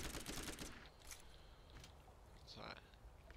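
SMG gunfire in Borderlands, a rapid burst of shots at the start followed by a few scattered sharper cracks, fairly quiet overall.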